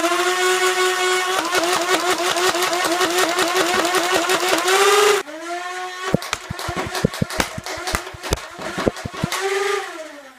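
A modified Nerf Rapidstrike blaster fires continuously from an 18-round stick magazine: a loud whining flywheel motor under a rapid, even stream of mechanical thumps, which stops midway and then restarts for a second burst that ends with the motor winding down.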